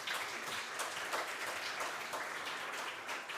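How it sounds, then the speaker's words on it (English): Audience applause for conference panelists at an international health tourism conference, a steady broadband wash of many hands clapping that stays fairly even for the whole stretch, with no talking over it. "please, a big applause for our great panelists"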